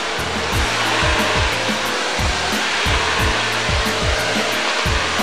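A Shark Navigator vacuum cleaner runs with a loud, steady motor whine and airflow roar that holds unbroken throughout, with faint low rhythmic thumps beneath it.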